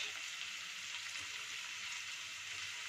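Two medium onions fry with chicken in a pan, giving a steady, close hiss of sizzling oil that holds even and unbroken throughout with no voices.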